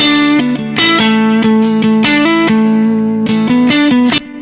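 Electric guitar with heavy distortion plays a short lead phrase over a D-to-A chord change, sustained notes bending and shifting in a steady, loud run with a few quick pitch changes, no talk.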